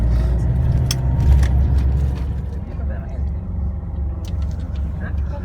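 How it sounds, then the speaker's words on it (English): Car driving through the streets of Florence, Italy, a steady low engine and road rumble heard from inside the vehicle, with a person talking over it throughout. "As we drive around Florence"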